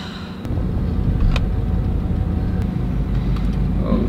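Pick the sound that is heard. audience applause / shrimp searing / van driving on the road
van driving on the road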